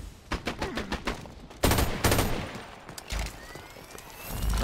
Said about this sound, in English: Freaking sentry gun again.